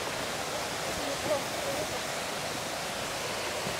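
Waterfall in Valle del Lunarejo, Uruguay, heard as a steady broadband rush of falling water in the distance, continuous and fairly loud throughout with no clear voices over it.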